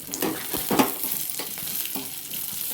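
Garlic and green chillies frying in a pan for a spinach chutney, giving a close, bright crackling sizzle broken by a few scraping stirs of a spoon.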